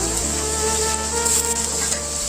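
Green chillies drop into hot oil in a frying pan already holding ginger, cloves, cardamom and ginger-garlic paste for fried egg rice, giving a loud, steady sizzle and crackle that runs unbroken throughout.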